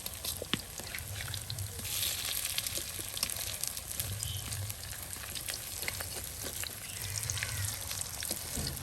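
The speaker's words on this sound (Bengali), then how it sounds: "দেখুন একদম অল্প সময়ে কিন্তু বড়াগুলো আপনার তেলে ভেজে নেওয়া হলো" Bora fritters sizzle in hot oil, a soft continuous crackle and spatter with scattered sharp pops, heard close but fairly quiet and alone.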